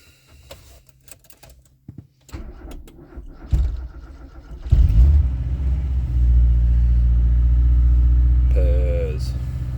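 An old Toyota KE70 with a manual choke cranks and fires up with clicks and knocks, then settles into a loud, steady, rumbling idle close by; a voice speaks briefly near the end.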